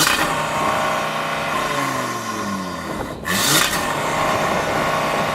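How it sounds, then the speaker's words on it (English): Stock-exhausted Audi RS3 five-cylinder engine revving at a standstill, with a steady idle rising into a couple of sweeping rev swells around the middle and a brief loud burst near the end. "Go on, rev up the Audi. Let's have a listen to it."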